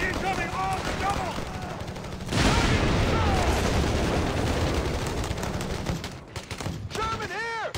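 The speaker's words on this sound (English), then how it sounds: "Open fire on those assholes!" Gunfire and explosions from a World War II battle in the strategy game Company of Heroes 3, a loud, dense barrage of shots and blasts that swells midway, with soldiers shouting over the fighting.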